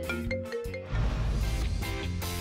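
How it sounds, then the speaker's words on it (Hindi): A mobile phone ringtone plays a bright, repeating electronic melody, loud and close, with a denser burst of tones taking over partway through. "लगता है उसे कोई दूसरे रिंगटोन लगाने के बारे में सोचना चाहिए"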